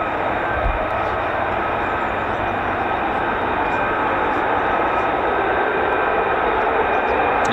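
F-35A fighter jets of the 48th Fighter Wing flying at RAF Lakenheath, a loud, steady broadband jet roar that holds for the whole stretch with no break, close and powerful.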